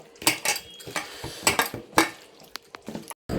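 Fish roe fritter batter with spices and gram flour being mixed in a bowl: rapid, uneven clatters and scrapes of a spoon against the dish, close and fairly loud, with a brief drop to silence near the end and no talking.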